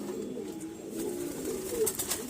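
Pigeons in a loft coo softly and steadily while feeding, a low throaty murmur running throughout with faint rustling in the background.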